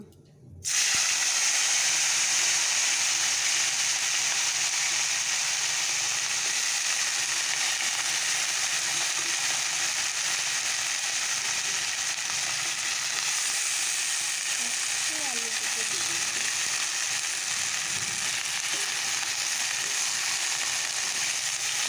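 Folui fish curry with drumsticks, potato and tomato cooks in a pan, giving a steady, close sizzling hiss that starts suddenly and carries on evenly.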